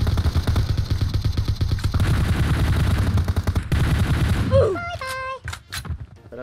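Rapid shotgun fire in PUBG Mobile, loud and dense for several seconds as repeated blasts overlap, then breaking off into scattered clatter and game effects, with players talking over it.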